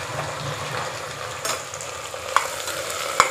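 Half a kilo of chopped onions, a mix of small shallots and large onions, sizzles in hot oil while being stirred, a steady close frying hiss with a couple of sharp scraping clinks.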